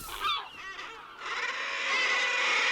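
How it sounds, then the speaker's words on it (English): Seabirds crowd a breeding colony on sheer Scottish sea cliffs, giving harsh honking and cackling calls that overlap into a dense, continuous chorus. "Here, seabirds come together in dense colonies to breed."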